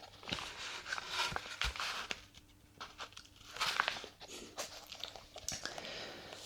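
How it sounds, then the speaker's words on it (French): Close, quiet rustling and crinkling of a book's paper pages in short bursts, with soft handling noises between them. "le son de ce papier."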